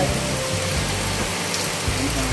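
Steady heavy rain pours down on a housing project site in a dense, continuous hiss, with a low rumble underneath and faint murmurs of voices in the background.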